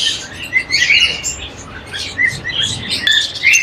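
Caged breeder-pair birds at the Sunday bird market in Rasheedabad, Multan, chirp and tweet continuously, several bright overlapping calls close by over a low murmur of market background.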